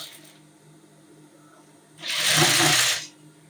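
A sewing machine hems fabric edges in one short burst of steady whirring stitching lasting about a second, close and fairly loud, after a quiet stretch of faint room noise.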